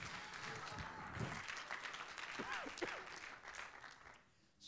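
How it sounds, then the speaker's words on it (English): A church congregation claps hands during an evening sermon, a dense, steady patter of many hands with voices over it, trailing off near the end. "Someone clap your hands and thank the Lord for his Word tonight."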